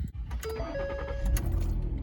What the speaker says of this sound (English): Fires right up. Super clean engine.